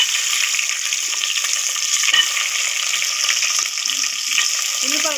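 Onions, green chillies and bay leaves fry in oil with cumin seeds, making a dense, steady hiss. Faint stirring clicks sound up close, and a brief voice comes in near the end.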